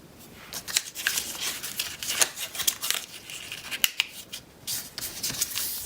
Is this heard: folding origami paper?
yes